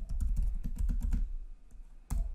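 Typing on a computer keyboard while entering a password: rapid, close clicking keystrokes in quick bursts, a brief pause, then a final tap, with no voices.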